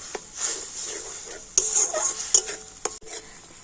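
Spices and ginger paste stir-fried in a pan for a pointed gourd curry, a steady close sizzle broken by sharp scrapes and clinks of a spoon against the pan, with no voices.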